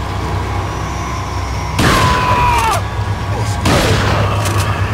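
Gunfire in a first-person shooter game, set over a steady low background hum. Two loud bursts of shots arrive about two seconds apart, and the first ends with a ringing tone.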